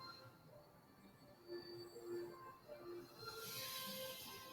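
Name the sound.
train hissing steam and squeaking metal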